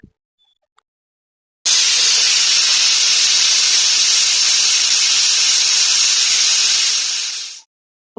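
A kitchen pressure cooker releases steam, a loud continuous hiss starting abruptly and holding steady for about six seconds before cutting off.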